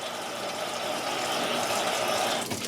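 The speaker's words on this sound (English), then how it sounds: "just take your potato and just rinse it off" A potato is rinsed under running tap water for a chili stew, giving a steady close rush of water that breaks off briefly near the end.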